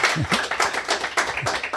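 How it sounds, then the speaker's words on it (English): A small group claps in a podcast studio, a short uneven burst of close hand claps with a loose rhythm and no voices over it. "Can I just get a round of applause for Rusty?"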